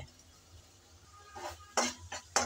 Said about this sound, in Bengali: কিছুক্ষণ নেড়ে চেড়ে শুটকি আমি ভালোভাবে কষিয়ে নিলাম